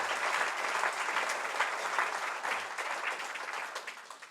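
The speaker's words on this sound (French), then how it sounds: "Vous pouvez les applaudir." An audience claps at a New Year's address, a dense, steady round of applause that carries on for several seconds and fades slightly toward the end.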